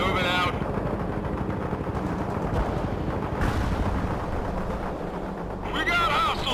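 Sustained battlefield gunfire and rumbling blasts from World in Conflict's Soviet Assault fill the whole stretch as a dense, loud roar, with radio-style voices talking over the combat.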